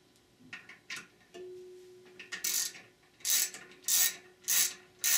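A torque wrench tightens pump housing-to-case bolts on a Ford E4OD/4R100 automatic transmission. Scattered soft clicks are followed by several loud, close ratcheting bursts separated by short pauses.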